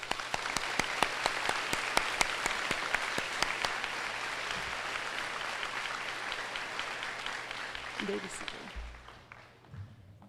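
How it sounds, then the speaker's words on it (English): Sustained applause from a 2021 high school graduation audience, a broad, even roar of many hands with some sharp nearby claps, slowly fading toward the end as a voice begins to speak. "Please give these students a round of applause"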